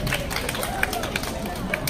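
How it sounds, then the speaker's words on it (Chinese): Scattered clapping and crowd noise from an audience at a community dance performance, a steady busy patter with murmuring voices mixed in, moderately distant. "俾啲掌声大家"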